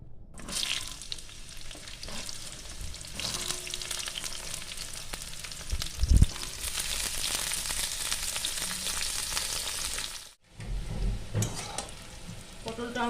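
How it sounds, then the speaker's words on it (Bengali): Pointed gourd (potol) frying in a pan, a dense close sizzle with stirring scrapes and one sharp clatter midway, then a short break before frying resumes. "পটলটা লাল করে ভেজে নেব"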